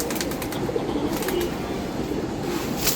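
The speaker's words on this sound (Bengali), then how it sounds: "সুন্দর কবুতর আমাদের।" Pigeons coo in low, soft bursts near the listener, with occasional wing flutters and light chirps, uninterrupted by talk.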